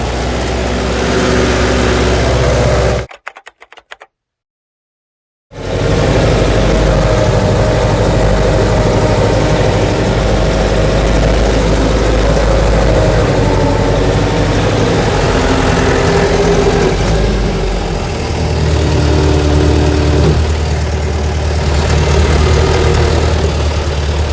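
A T-40AM tractor engine drones steadily and loudly while plowing with a PLN 3-35 plough, with a brief cutout of silence early on before the rumbling resumes and holds.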